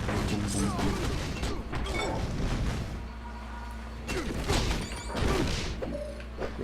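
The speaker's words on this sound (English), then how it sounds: "You have the regular fireballs." Repeated fireball blasts from a Marvel: Ultimate Alliance superhero video game, loud crashing bursts and thuds arriving in quick clusters with a continuous game soundtrack beneath and a voice talking over it.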